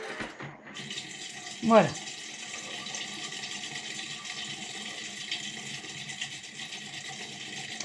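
A Thermomix TM7 food processor starts up after a short thump and settles into a steady, moderate whirring hum that runs on evenly. A voice speaks briefly just before it starts.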